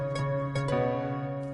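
Short burst of a song melody played on Fortnite music blocks, a few clean tonal notes with sustained harmonics, steady and clear with no voices.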